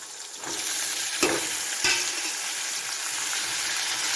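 Chopped chayote is sautéed in a pan with tamarind, onion and tomato for a chutney. The hiss is steady and moderately loud, broken early by two sharp utensil knocks, and nobody speaks.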